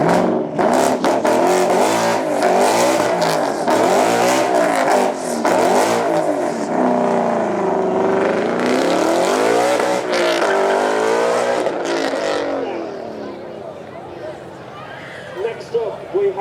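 A supercar at Beaulieu Supercar Weekend accelerates hard, its loud engine note rising and falling through several sweeping revs before fading away, with a commentator's voice over it.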